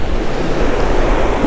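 Choppy moving water at a fishing spot, a steady, loud wash of small waves and surf with wind noise buffeting the microphone throughout, no talking.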